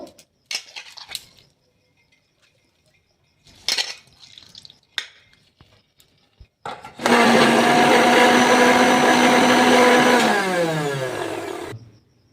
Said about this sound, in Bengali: এবার এর মধ্যে মিক্সিতে আমি পেস্ট করে নেব।